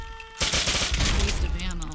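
A sudden volley of rapid gunshots from Fallout 4 bursts in after a brief quiet hum and rattles on steadily, loud and close.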